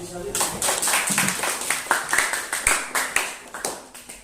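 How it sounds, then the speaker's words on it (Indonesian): Students in an Indonesian classroom clap in unison, a busy stream of many overlapping hand claps that builds over about four seconds, close and moderately loud, with faint voices underneath. "Terima kasih. Tepuk tangan dulu."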